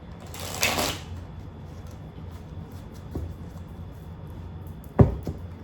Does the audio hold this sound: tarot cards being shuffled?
yes